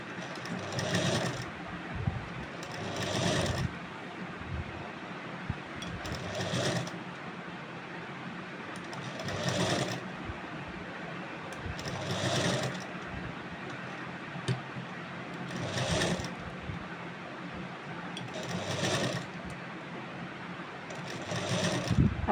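A sewing machine stitches a Rajasthani suit blouse (kanchli) in repeated short bursts of whirring at regular intervals, separated by quieter pauses; close and moderate in level, alone without talk.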